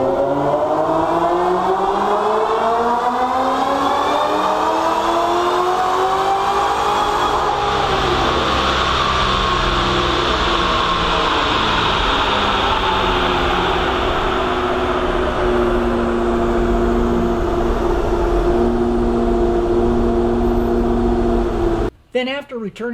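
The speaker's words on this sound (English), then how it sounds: "I loved watching that car rev it up on the dyno" Car engine revving hard on a dyno in one long rising pull, loud and close, then dropping away abruptly near the end.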